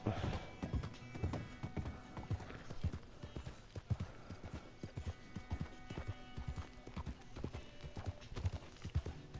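Horse hooves clip-clop in a rapid, steady gallop through a zombie apocalypse video game, the hoofbeats close and continuous with a faint background hum; no speech.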